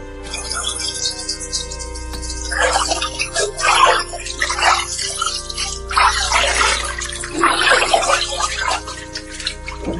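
Water spatters and splashes in uneven bursts from an overhead shower rose into a huge bathtub, pumped up from a tube well, over a low steady hum, with no talking.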